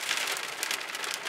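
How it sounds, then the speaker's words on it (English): Dense patter of hard pellets striking surfaces, a steady crackling rush with brief sharper bursts, no voices. "It's hailing."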